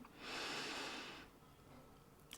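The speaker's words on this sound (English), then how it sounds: "take a big deep breath in through your nose" One long, airy inhale drawn in through the nose, loud and close, fading into quieter breath afterward.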